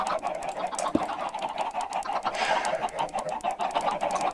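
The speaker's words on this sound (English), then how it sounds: "there are chickens everywhere" A crowd of chickens clucking in Minecraft after a block is broken, a busy overlapping chorus of short clucks and squawks, loud and steady with no talk.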